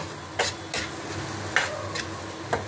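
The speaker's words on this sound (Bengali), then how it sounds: "এখন আমি এটা নেড়ে চেড়ে নামিয়ে নেব।" Filling being stirred in a pan on the stove before it comes off the heat, with a few distinct scraping strokes spaced across a few seconds over a low background hum, close and fairly quiet.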